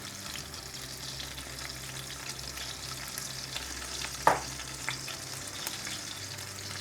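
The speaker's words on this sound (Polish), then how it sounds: "tylko my wrzucimy tak smażony kurczak do tego sosu" Chicken for butter chicken sizzles and fries steadily in a pan, with a sharp clink of a utensil partway through and faint stirring scrapes.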